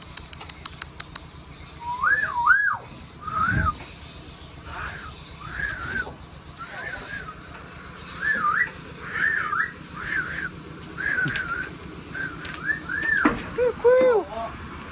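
Repeated warbling, rising-and-falling whistles from a mimicking bird, heard on a trip toward Long Bagun, come in short phrases over about fifteen seconds, moderately near, with background noise, brief rustles and faint talk.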